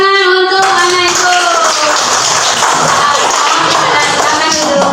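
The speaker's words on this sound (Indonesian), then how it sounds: "Tepuk tangan untuk anak itu." Children in a classroom group clap their hands together for a classmate, producing a quick burst of brisk, close applause that follows a short sung or spoken tone at the start.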